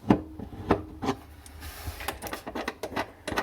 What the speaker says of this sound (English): A bit more work with the spanner.